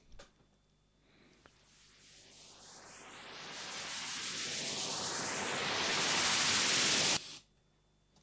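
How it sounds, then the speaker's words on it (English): A synthesized white noise sweep transition effect rises steadily for about six seconds, its filtered hiss climbing in pitch and swelling in loudness before cutting off abruptly, heard alone without any music. "The second transitional technique out today is the noise sweep transition"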